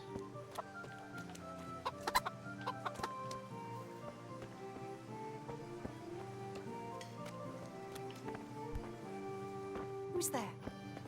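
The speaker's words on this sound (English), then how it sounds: "Ooh, chicken." Chickens cluck softly in the Kingdom Come: Deliverance video game, scattered clucks over a steady ambient bed while a person talks throughout.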